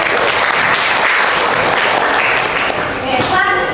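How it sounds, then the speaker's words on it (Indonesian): A classroom claps for two students who have just answered, dense steady applause close by that fills the whole stretch, with a voice briefly audible near the end. "Tepuk tangan buat dua teman kalian yang sudah menjawab."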